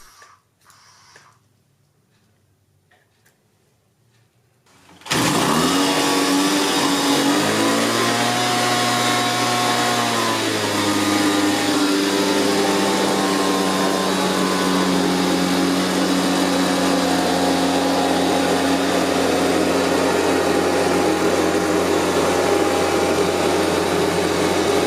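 A Homelite HB290V 25cc leaf blower, revived with a new fuel line and primer bulb, starts after a few seconds of quiet and then runs loud and close in a sustained high-pitched engine whine, with a brief dip in revs before settling.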